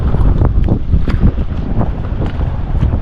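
Strong wind gusting over water, a loud, continuous buffeting rumble with irregular pulses and light knocks throughout, no speech.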